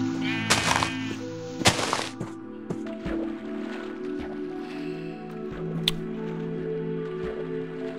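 Sheep bleating near a farm in Minecraft, a couple of short wavering calls over a steady droning game background, with occasional soft footsteps and no speech.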